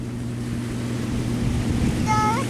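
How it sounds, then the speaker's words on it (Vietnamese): A heavily loaded cargo boat's Hino diesel engine drones as a steady, distant low rumble over wind and water, with a brief high whistle-like tone near the end. "Có thể mọi người nghe nhỏ nhỏ là cái âm thanh của động cơ Hino ha."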